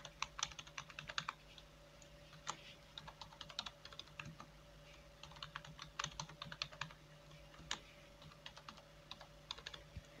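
Rapid, uneven keystrokes on a computer keyboard while a password is entered during Gmail account setup, close and fairly quiet, with short bursts and pauses and no voices.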